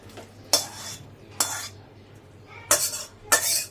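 Cooked prawn curry is scraped out of the pan, four distinct metal spoon scrapes against the pan spaced out over a faint low hum, close by.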